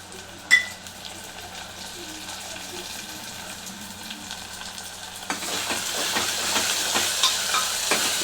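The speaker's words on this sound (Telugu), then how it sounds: "ఈ పుదీనా మంచిగా వేగాలి, పచ్చి వాసన పోయేంత వరకు వేయించుకోవాలి." Mint leaves sizzle in hot oil in a pan for a Telangana village-style country chicken curry. A steady frying hiss with a brief clatter near the start swells louder and busier about two thirds of the way through, with no talking.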